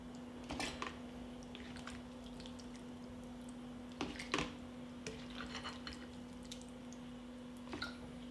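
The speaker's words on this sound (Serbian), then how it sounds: "Pripremljenu salatu sipam u tegle." Prepared salad dressed with oil, vinegar and salt goes into glass jars, making faint wet squishes and drips with a few soft clinks against the glass, spread sparsely over a quiet background with no talking.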